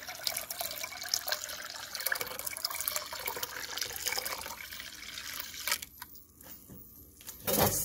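Water is poured into cucumber juice in a kitchen, a steady close trickle and splash of liquid filling a container that stops briefly before the end.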